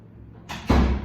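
A door swings shut in a school office, a brief close thud following a short swish, one quick closing sound.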